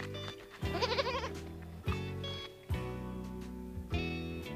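A goat bleats in a quivering, wavering cry, followed by shorter calls over a steady tonal background, fairly faint and without talk.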